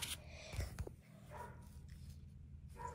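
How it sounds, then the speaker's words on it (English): Several dogs next door bark in short, scattered bursts, fairly distant and moderately loud, with a brief whimper-like yip among them over steady low background noise. "That's our neighbor's dogs."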